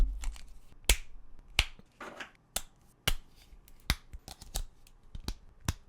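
Plastic pieces of a Bandai Godzilla Minus One figure are pressed and snapped together close up, giving a quick irregular run of sharp clicks and small clacks, with soft rubbing and handling between them.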